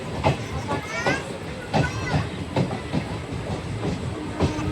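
Porbandar to Jetalsar passenger train 59562 rolling along with steady rumble and repeated clickety-clack wheel beats over rail joints, loud and continuous, with occasional voices underneath.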